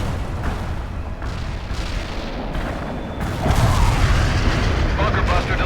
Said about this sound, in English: Bunker buster delivered